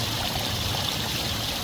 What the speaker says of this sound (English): And the water is then pushed to the bogs or back to the pond over on this side